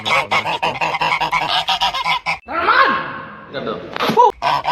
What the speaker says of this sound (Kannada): ಬಾತುಕೋಳಿ